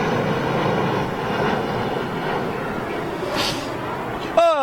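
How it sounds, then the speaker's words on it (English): A Star Alliance jetliner inbound at Heathrow Airport, heard as a steady distant engine roar that holds throughout, with a brief sharp sound at the end. "Looks like a little Star Alliance jetliner inbound."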